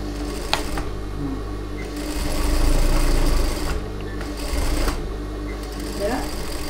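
A sewing machine stitches along folded fabric with its needle and motor close by. It runs in a steady whirring rattle, stops briefly, and speeds up again in stretches.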